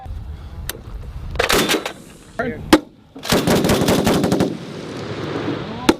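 US Marines fire a machine gun at drones in several short bursts of rapid, loud shots, separated by mechanical clacks and quieter gaps, with outdoor background noise between volleys.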